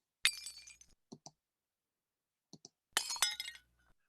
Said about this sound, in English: if we convolve it with some glass breaking sounds,